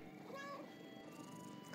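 A cat meows in the video game Gori Cuddly Carnage, a short high mew over a low background hum of game audio, brief and fairly faint.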